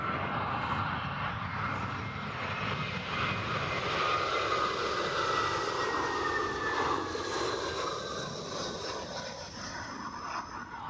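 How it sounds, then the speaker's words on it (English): A Virgin Atlantic Boeing 787-9 Dreamliner inbound from Montego Bay approaches Heathrow's runway 27 left, crabbing in the wind, its engines a steady, broad roar that stays loud and continuous throughout with no talking. "we'll watch this Virgin Dreamliner as it crabs its way"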